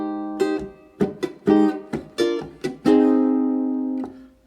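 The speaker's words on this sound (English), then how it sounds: "then I can hit the strings and make a kind of percussive sound" A ukulele strummed with a percussive chuck, the fretting hand easing off so the strings mute, playing a chord pattern in the style of a pop song. Sharp muted chucks alternate with ringing strums up close, and the last chord sustains and fades.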